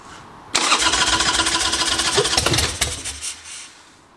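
A cold chopper motorcycle, choke pulled, cranks loudly and close with a fast rhythmic starter whir for a couple of seconds, then sputters and fades as it fails to catch.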